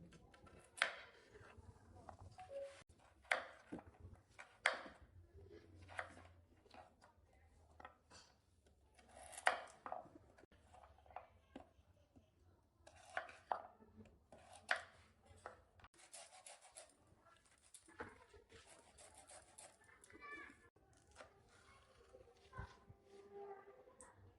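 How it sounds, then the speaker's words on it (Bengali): Radish and carrot being cut into long strips on a board for pickle, a quiet series of irregular knife chops and scraping rubs, close but faint, with no talk. "এবারে আমি সব সবজিগুলো কেটে নেব"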